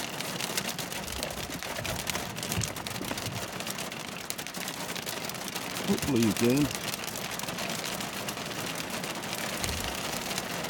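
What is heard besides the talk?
hail falling in a forest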